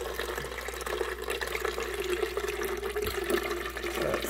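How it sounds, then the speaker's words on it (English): Water runs steadily into the reservoir of a Ninja Hot and Cold Brew coffeemaker, a continuous close splashing gurgle with a faint rising fill tone, steady throughout with no talking. "So I'm going to add some water to this."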